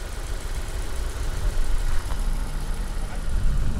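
A used 2008 car idles at a Kazakh car market with a steady low rumbling hum, broadband and continuous at moderate loudness, with outdoor background noise.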